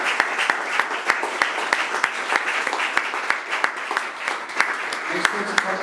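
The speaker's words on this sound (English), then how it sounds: "Big applause for the winning team." At a flash competition, the crowd applauds the winning team with dense, sustained clapping and a few sharper claps standing out, loud and steady throughout, with voices mixed in.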